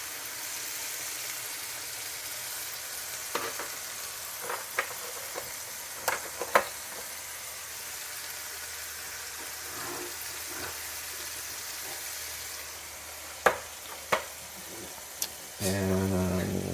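Chili ingredients frying in a pan, a steady soft sizzle with occasional spoon clicks and stirring scrapes, close and fairly quiet.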